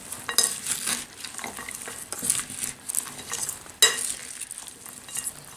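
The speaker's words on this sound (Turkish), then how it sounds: "Şimdi bunları güzelce bir karıştırıyorum böyle." Salad dressed with pomegranate sauce, lemon and olive oil is stirred in a bowl, with repeated wet squelching tosses and light utensil clinks in an irregular rhythm, close and moderately quiet, with no talking.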